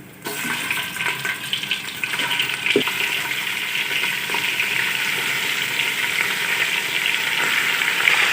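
Mutton sizzles and crackles loudly in a hot pan with golden ginger paste, a steady close frying hiss with occasional pops and stirring sounds.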